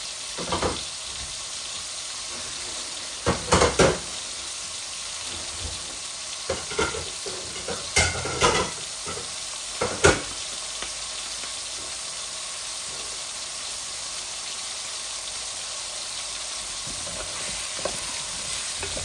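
Potatoes and rohu fish fry in a pan in a village-style home kitchen, a steady broad sizzle running throughout with scattered scraping stir knocks and clatters, close and moderately loud, no talking.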